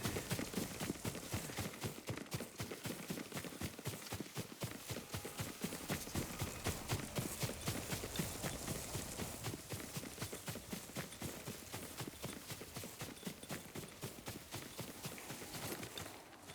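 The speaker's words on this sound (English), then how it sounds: "Yuriko's horse." Yuriko's horse gallops in Ghost of Tsushima, a steady, fast clip-clop of hooves pounding on and on, loud and close, with no voices over it.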